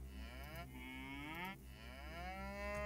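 Cattle mooing in Age of Mythology Retold, several overlapping long lowing calls from a herd, loud and continuous over a steady low game background hum, with no talk.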